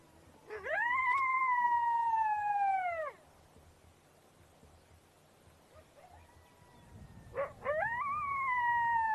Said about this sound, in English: Lone Coyote.